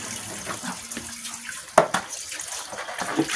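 Hot water pours steadily into a cooking vessel while preparing a simple bitter gourd and egg dish, a soft continuous splashing with a few small knocks and clinks.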